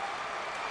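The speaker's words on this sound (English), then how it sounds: "with an applause from the Cardinal fans." Cardinal fans applauding in the arena during a 2003 NCAA basketball first-round game against Austin Peay, a faint, steady wash of crowd clapping with no distinct claps standing out.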